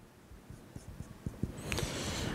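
A value being written on a board, heard as a series of close, evenly spaced taps and strokes that give way to a denser, steady scratching toward the end.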